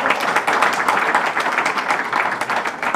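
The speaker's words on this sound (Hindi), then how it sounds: "तालियाँ भी ज़रूर बजाएं" An audience at a book inauguration event claps steadily, a close, busy patter of many hands sustained throughout with no pause.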